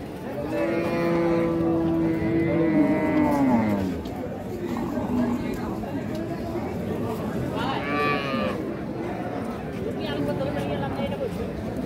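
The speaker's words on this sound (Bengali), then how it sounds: "এখানে একটা গাভী দেখছি" A Holstein Friesian cow moos loudly at a Cumilla cattle market, a long drawn-out low call followed by a second shorter one, with crowd chatter and talk around it.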